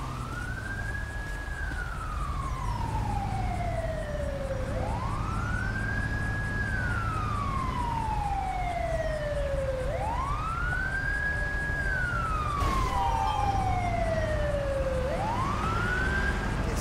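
An ambulance siren in Grand Theft Auto V wails in long, slow rising-and-falling sweeps, repeating about every five seconds at moderate level over a low engine rumble, with one brief sharp click near the end.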